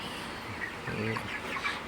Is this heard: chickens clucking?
yes